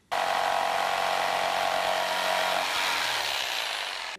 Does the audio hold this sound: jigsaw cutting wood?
yes